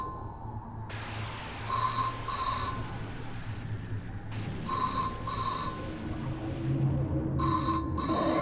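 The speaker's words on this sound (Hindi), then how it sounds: "लगता है फोन की घंटी बज रही है।" A telephone rings late at night in a dramatized horror story, repeated bursts of paired electronic bell tones separated by pauses over a low ambient rumble, with no one speaking.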